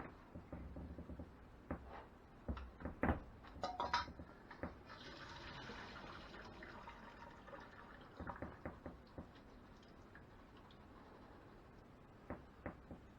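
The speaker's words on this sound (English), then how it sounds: "Drain the water off of that." Water from cooked pasta noodles is poured off into a sink, with splashing, dripping and clatter of a pot, uneven bursts fading to quieter trickles, no talking.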